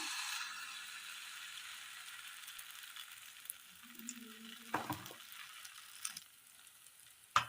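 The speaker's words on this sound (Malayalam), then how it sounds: "അതിനകത്തേക്ക് അല്പം നെയ്യ് ഒഴിച്ചു കൊടുക്കാം നെയ്യ് ഒന്ന് നന്നായി ഉരുക്കി വരുമ്പോൾ നമ്മൾ കുഴച്ചു വെച്ചിരിക്കുന്ന മാവ് ഒഴിച്ചു കൊടുക്കാം" Batter poured into melted ghee in a hot pan for pan roti, a bright sizzle that flares at first then settles into a softer fry, with a few spatula clicks and scrapes.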